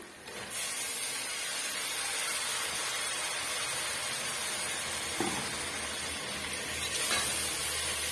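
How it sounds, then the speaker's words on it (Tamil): Cut tomatoes hit a hot pan while cooking mutton biryani, giving a steady, loud, close sizzle with hiss that runs throughout, with a few small clatters near the end. "இப்போ நம்ம கட் பண்ணி வச்சிருக்க தக்காளி பழம் சேர்த்துக்கலாம்"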